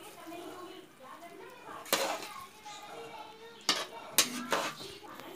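Ambur biryani rice being stirred and mixed in a metal pot, soft scraping under a quiet background voice, with several sharp clanks of a spoon against the pot.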